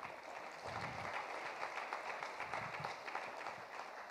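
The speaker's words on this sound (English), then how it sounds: "So again, give yourselves a round of applause." Audience at the San Diego College of Continuing Education Emeritus benefit concert giving a sustained round of applause, a dense, even crowd clapping heard at moderate distance and steady volume throughout.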